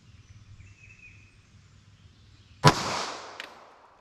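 A single sharp 9mm pistol shot from a short-barrel Taurus G2C cracks out loud and close after a few quiet seconds of faint outdoor ambience, followed by a short ringing decay.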